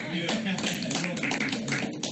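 Audience applause at a company sales meeting for a colleague who closed another deal, dense steady clapping filling the room with voices mixed in.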